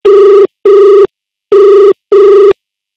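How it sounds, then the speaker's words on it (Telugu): A telephone rings for a call on a Telugu TV show, four loud, evenly spaced electronic bell bursts with brief silent gaps, clean and alone. "Let's call Ramesh uncle."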